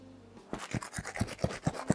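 A few seconds of quiet, then a series of sharp, crisp crunches in a steady rhythm, close up, biting into a crunchy fried salmon fritter.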